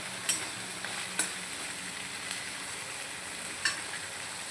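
Mutton trotters sautéed in ground masala give a quiet, steady sizzle, broken by a few sharp scrapes of a spoon against the pan.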